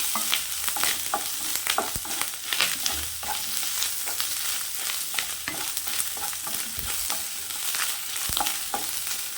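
Ingredients with coconut for a fish curry sizzle and fry in a pan while being stirred, with scraping clicks of a utensil over a steady hiss.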